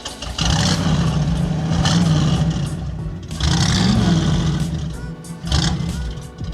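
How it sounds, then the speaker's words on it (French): A 1966 Ford Mustang Fastback starts up and its engine roars through a few revving surges, loud and close with a rumbling low end and brief dips between pulls. "on veut entendre ce doux bruit, cette douce mélodie. Je démarre tout ça."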